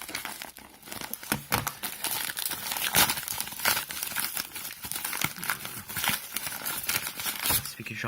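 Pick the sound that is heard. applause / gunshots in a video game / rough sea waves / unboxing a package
unboxing a package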